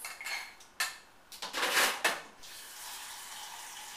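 Cooking pans handled on a stovetop, with a few sharp metallic clanks and scrapes close by, followed by a quieter steady hiss.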